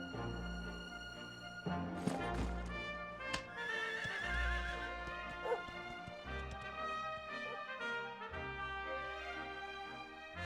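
A horse whinnies in Dragon Quest XI S, a loud neigh rising over orchestral game music with hoof clip-clops nearby; no one talks.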